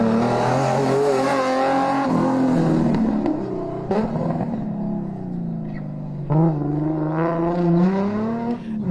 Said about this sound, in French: Dans le trophée des 4x4, la victoire revient à Bruno Bartholin et Baptiste Caclar avec leur Nissan Pathfinder.